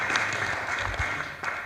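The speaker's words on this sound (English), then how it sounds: "I think we should give her a clap" Audience clapping at a political rally, a brief patter of applause heard under crowd noise.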